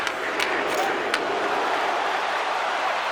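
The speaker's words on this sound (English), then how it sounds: "Ristolainen's really hearing it from the home crowd right now." A home arena crowd in the hockey video game NHL 26, during a Flyers vs. Hurricanes match, jeers a player with a continuous broad roar, and a few brief shouts rise above it.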